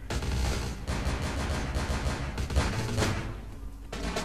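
Gunfire from a handgun in the game Vampire: The Masquerade – Bloodlines, sounding as repeated close shots over a dense, continuous game soundscape with no clear gaps.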